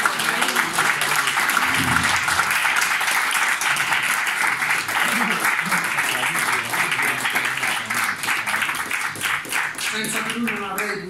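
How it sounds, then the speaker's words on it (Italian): Sustained crowd applause at a running-festival awards ceremony at a swimming complex in Ostia, loud, dense clapping holding steady throughout, with a voice briefly audible near the end. "applauso."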